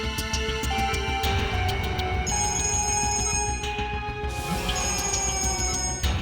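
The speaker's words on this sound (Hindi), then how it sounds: "बार-बार फोन आ रहा है।" A telephone rings with a bright, trilling electronic tone, repeating steadily and fairly loud over a dense background.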